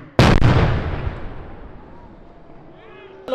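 A sharp, loud blast from fuel igniting in the air at an outdoor school explosion demonstration hits suddenly, followed by a long rumbling decay that fades over a few seconds.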